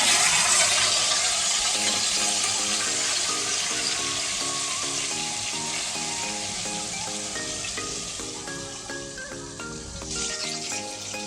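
Aar fish fries in oil in a pan, with a steady close sizzle and soft crackle running throughout while a melodic tune plays quietly underneath.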